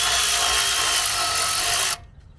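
A power tool loosening the bottom brake caliper bolt on a third-generation Toyota 4Runner during front wheel bearing work: one loud, close, steady whir that stops abruptly, leaving quiet room tone.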